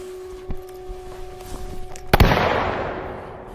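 A rubber-bullet gunshot in the video game Batman Arkham Shadow, a single sharp crack followed by a short decaying burst, with faint footsteps and steady background tones before it.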